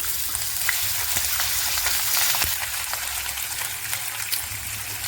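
Whole cardamom pods, cinnamon and ginger paste sizzle in hot oil, a steady, close crackling hiss that runs continuously with small pops and no talk.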